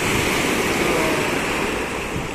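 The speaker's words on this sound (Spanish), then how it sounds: "Las olas hermosas." Ocean waves break steadily on the beach at Barranco in Lima, Peru, a continuous loud wash of surf with no distinct pauses, heard alone with no talking.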